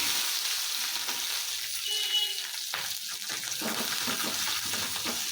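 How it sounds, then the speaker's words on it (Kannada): Ginger, garlic and green chilies fry in oil in a pan for sprouted horse gram saaru, giving a steady close sizzle and crackle with a few stirring clatters and no talk. "ಈಗ ಶುಂಠಿ ಮತ್ತು ಬೆಳ್ಳುಳ್ಳಿ, ಹಸಿಮೆಣಸಿನ್ಕಾಯಿ ಹಾಕ್ಕೊತಾ ಇದ್ದೀನಿ."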